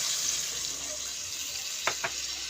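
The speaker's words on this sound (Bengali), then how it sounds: "মাছটায় দিয়ে দিলাম আমি জল" Water poured into a cooking pot of tempu fish with ridge gourd for a light curry: a soft, even hiss runs throughout, broken by two brief splashy bursts near the end, fairly faint.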